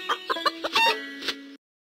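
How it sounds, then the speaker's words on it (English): A farm chicken clucks in a quick run of short, bright calls, up close and alone, ending in a longer sustained note before silence. "Chickens live on the farm."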